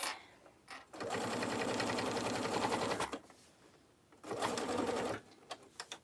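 A sewing machine stitches a tote bag seam around a curve, running in two steady buzzing bursts of a couple of seconds each, separated by a brief pause, heard close and fairly quiet.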